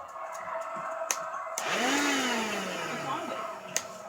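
A vacuum cleaner runs on a staircase, its motor whine swelling suddenly midway and holding steady, with sharp knocks and bumps against the stairs and some background speech.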